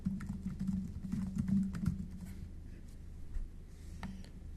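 Quick typing on a computer keyboard, close-up and soft, a rapid patter of key clicks over a low steady hum, busier at first and then thinning out.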